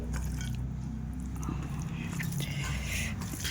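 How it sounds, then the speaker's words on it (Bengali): Close, wet chewing and squishing as rice mixed with mashed pointed gourd is eaten by hand, a soft continuous mouth sound with faint smacks and no clear talk. "এবার আমি খাওয়াটা শুরু করে দেব। তো আগে পটল মাখাটা দিয়েই খাই।"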